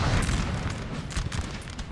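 Artillery fire in Napoleonic Total War 3 during a 4v4 multiplayer battle: muffled, distant cannon booms and low rumbling blasts spread across a short stretch, fairly faint.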